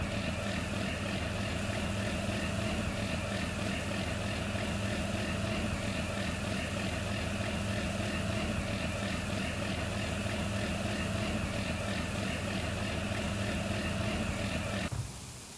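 Steady tractor engine from Farming Simulator 19, a continuous loud low idle-like drone with a constant mechanical hum throughout, cutting off sharply near the end as the engine is switched off.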